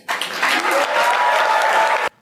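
Audience applause, a loud burst of dense clapping from a crowd lasting about two seconds, then cutting off abruptly.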